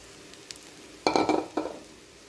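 Curry leaves hit grated coconut roasting in a pan, giving a sudden loud burst of crackling sizzle that fades, followed by a second smaller burst, after a quiet stretch with faint stirring.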